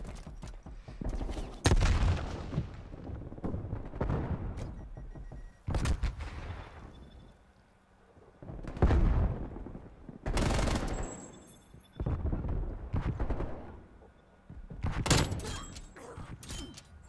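Gunfire in Call of Duty Black Ops Cold War, several sharp, loud bursts and single shots in uneven clusters, some close and some distant, with quieter gaps between them.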